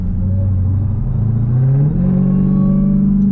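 A Dodge Durango Hellcat on the move gives a loud, close engine drone, with a rising supercharger whine climbing over the rumble as it accelerates.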